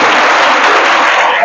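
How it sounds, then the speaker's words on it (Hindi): Dense, loud clapping from students in a polytechnic college classroom, applauding themselves after a group exercise, steady and close throughout with no gaps. "तालियां बजाओ अपने लिए"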